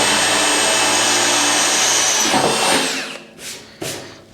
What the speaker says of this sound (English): I'm actually gonna drill this one out to 1/4 inch